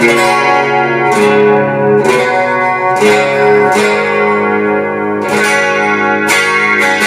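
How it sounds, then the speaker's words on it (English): Bright, clean Stratocaster electric guitar plays a series of chords, each strum ringing clearly with a sparkling, slightly shimmering 80s tone, close and prominent. "It's a classic 80s kind of sparkle, clean Strat tone."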